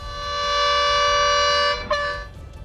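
A bus horn sounds on a hill road, driving off an elephant. One long, loud, sustained tonal blast is followed by a brief second toot, with no talking.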